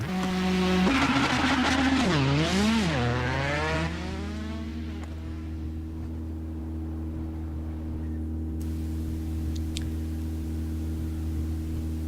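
A WRC2 rally car in WRC7, at the Monte Carlo Rally, gives a loud steady engine drone with rising and falling revs early on, then settles into a constant hum over road noise.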